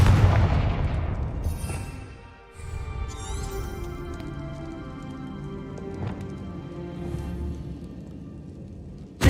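Spell-casting explosions in the video game Hogwarts Legacy, a loud rumbling blast that fades, followed by layered magical whooshes, bright chimes and ringing tones over a sustained noisy backdrop.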